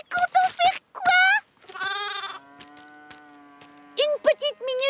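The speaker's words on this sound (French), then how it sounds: "T'as vu, maman, une chèvre? Non, un agneau." A cartoon lamb in a Thomas & Friends episode gives several wavering bleats between short bursts of character dialogue and a sustained tonal sound, close and fairly loud.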